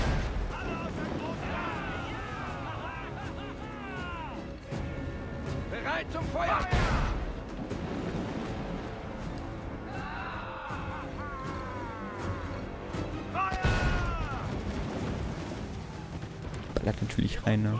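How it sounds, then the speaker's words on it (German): Heavy booms of mortar fire from a ship in Assassin's Creed IV: Black Flag, several deep blasts spaced apart amid battle noise, with a player talking over much of it. "Ich kann die gerade nur mit dem Mörser treffen."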